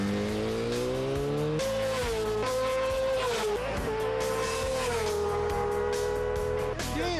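Superbike engine held on the rev limiter, a loud, sustained high-pitched buzzing drone with steady pitch and slight wavering, near and continuous throughout, a brief dip midway before holding again.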